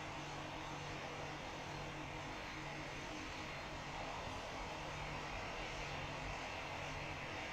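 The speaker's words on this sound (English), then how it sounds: "next arrival is the Coast Guard Cessna Caravan, followed by what looks to be a KLM E190" A Coast Guard Cessna Caravan arriving at Perth International Airport, a steady, distant engine drone with broad airy rumble holding evenly throughout, no talk over it.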